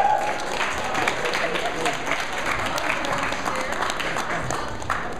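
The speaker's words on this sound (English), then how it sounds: "Let's give ourselves a round of applause." Audience at the Peaceburgh Artist Showcase breaks into a steady round of applause, dense clapping that holds evenly throughout with a little crowd murmur underneath.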